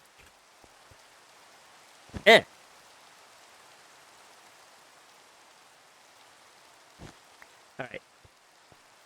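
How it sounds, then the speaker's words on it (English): Minecraft rain falls as a faint, even hiss throughout, with someone briefly speaking over it and a few soft game clicks. "Stupid rain."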